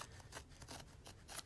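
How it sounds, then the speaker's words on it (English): Scissors snipping through fabric for a notebook cover, a quiet, close series of regular crisp cuts, about four or five in quick rhythm with no talk. "it's taking me longer than normal to cut"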